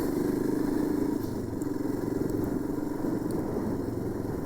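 A Royal Enfield Himalayan motorcycle engine drones steadily at cruising speed, around 65 to 70 mph on a US highway, with rushing wind noise and a continuous low rumble close to the rider.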